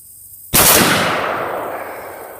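A single loud rifle shot from an AR-15 fitted with a Superlative Arms gas piston set to full gas with no bleed-off and a 3.8-ounce LARB buffer. It cracks sharply out of silence, then a long echoing tail fades away.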